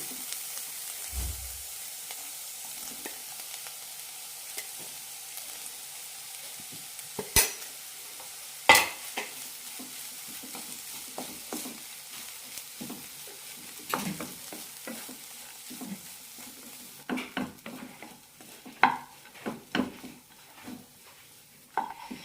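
Beans and dal usili being stirred in a pan over a low flame, with steady soft sizzling and repeated scraping clinks of a spoon against the pan.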